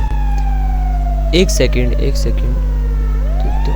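A fire engine siren from the video game GTA 5 wails steadily and loudly through the whole stretch, sweeping down and then back up, with a person talking briefly over it in the middle.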